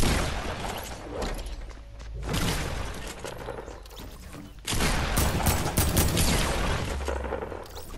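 Dense, overlapping bursts of gunfire and mechanical clatter from a video game's free-for-all mode, loud and continuous, swelling in intensity partway through.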